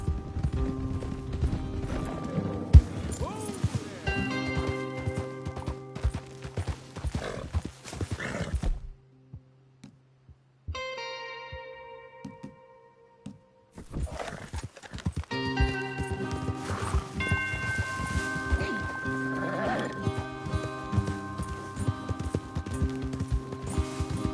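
Galloping horses in Red Dead Redemption 2, a steady clatter of hooves under game music and a snort, dropping out briefly midway before the riding resumes.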